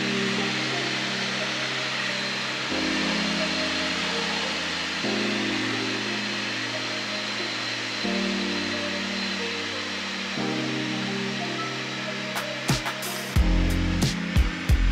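A light aircraft's engine drones steadily on the approach to land at Duxford, stepping down in pitch several times as the throttle comes back, with brief knocks and rattles near the end.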